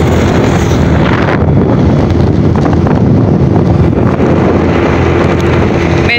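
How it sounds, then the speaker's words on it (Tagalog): Steady wind buffeting the microphone blends with a motorbike engine's continuous drone while riding along a bypass road in Tacloban City, Philippines, loud and unbroken throughout. "sa hangin tsaka sa tunog ng motor"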